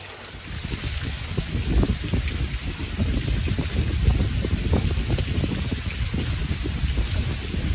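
Heavy rain pouring down on a bridge where crappie fishing is underway, a loud, constant downpour with dense spattering drops and occasional louder splashes.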